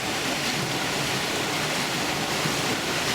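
Steady, dense rushing of water through a hydroelectric turbine, a constant hum-like roar with no breaks, fairly loud and close.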